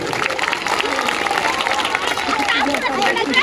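An audience claps at a birthday celebration for former corporator Narsing Shinde, a dense, loud and steady roll of applause mixed with crowd murmur.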